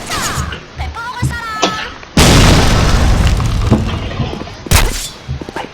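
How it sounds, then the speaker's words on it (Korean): A grenade detonates in a video game with a loud, sudden boom that rolls on as a long rumbling blast, followed by a second sharp burst, while players talk before and around it. "수류탄"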